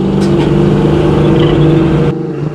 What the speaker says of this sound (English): Jigger the exhaust a little bit.